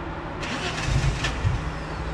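A turbocharged Holden VK on a dyno, its engine cranking without catching: a steady whirring starter drone with a couple of uneven surges, no voices.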